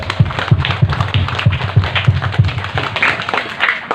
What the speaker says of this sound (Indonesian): kita kasih tepuk tangan dulu untuk para panitia